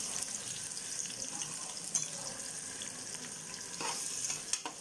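Half a kilo of onions frying in oil for bhai-style mutton biryani, a soft continuous sizzle with occasional stirring scrapes and clinks, fairly quiet and close, with no one talking.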